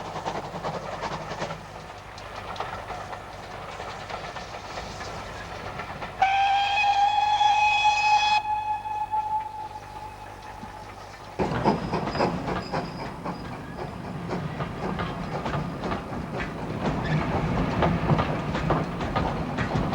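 A GWR 1500 class steam tank locomotive on carriage pilot duties near Old Oak gives a long steady whistle blast, then its wheels clatter and rumble past with rising exhaust and rail noise, loud and close.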